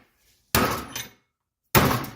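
Two sharp, loud metallic strikes of a 5-pound hammer on a slug pressing out a ball joint held in a vise on a 1984 Mercedes 300CD, each ringing briefly before cutting off, close up.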